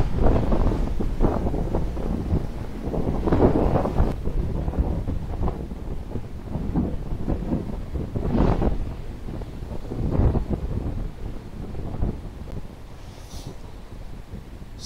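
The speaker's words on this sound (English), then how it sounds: "waiting for the waves to fill the hole of the frame" Sea waves breaking on a rocky coast at dawn, loud surging washes rising and receding in slow irregular swells, roughened by wind buffeting the microphone.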